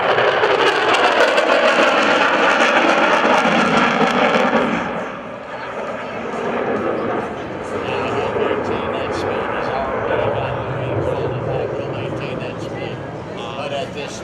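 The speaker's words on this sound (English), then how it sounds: "the aircraft commander has pushed the throttles up to the combat position and gone afterburners" A Rockwell B-1B Lancer bomber from Dyess, Texas roars past on afterburner at an airshow, a loud broadband thunder that fades after five seconds into a rumbling drone, with an announcer talking over it.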